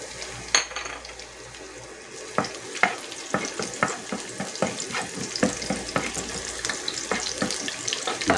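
Garlic sizzles in a wobbly, uneven frying pan, with a quiet hiss under a rhythmic series of sharp scraping and clattering stirring strokes close by.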